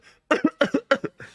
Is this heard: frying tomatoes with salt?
no